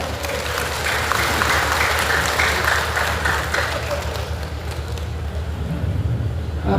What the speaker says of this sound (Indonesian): beri tepuk tangan juga untuk KBIHU se-Kabupaten Tegal.